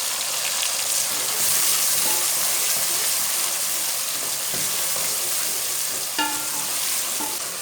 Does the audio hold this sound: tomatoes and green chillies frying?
yes